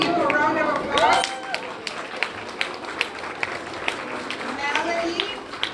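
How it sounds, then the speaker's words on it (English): Applause from students at a South LA school event, a brisk run of scattered claps that follows brief talk and carries on under crowd chatter. "Can you give a round of applause?"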